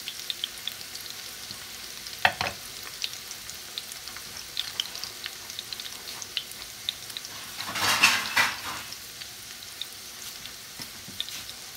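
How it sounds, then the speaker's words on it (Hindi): Paneer for village-style palak paneer slow-frying in a pan, a steady soft sizzle throughout with a brief clatter near the start and a louder burst of crackling toward the end, no voices. "इस तरह से हमें फ्राई कर लेना है थोड़ा सा स्लो फ्राई।"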